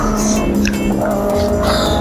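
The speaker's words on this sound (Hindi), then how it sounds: "एक मधुर कान में आवाज़ आती है जब ये सारी बाइकें आसपास से निकलती हैं" Superbikes with loud exhausts pass close by on a group Sunday ride, a dense roaring engine and exhaust blare with rising and falling pitches that overlap and stay loud throughout.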